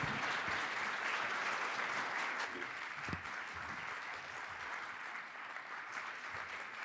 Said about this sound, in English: clap in front of the screen, or whether you're here to give our guests a round of applause